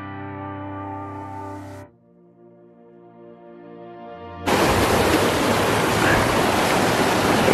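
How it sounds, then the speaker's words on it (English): A waterfall on a hiking trail roars loud and steady, a dense continuous rush that starts abruptly after a few seconds of sustained tonal drone. "There's the waterfall."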